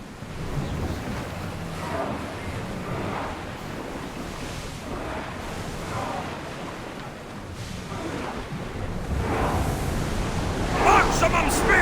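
A ship under sail at sea in Assassin's Creed Odyssey, with steady wind and surging waves washing around the hull, rising louder toward the end, while voices are heard over the water.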